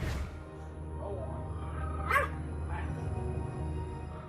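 A small dog gives faint, high whimpers and a few short yips, close by, over a steady low background hum, with no talking.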